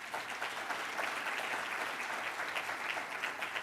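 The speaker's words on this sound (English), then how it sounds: "A round of applause for them." Steady applause from a lecture audience at an Africa Day event, dense and even throughout, filling the hall with sustained clapping and no talk over it.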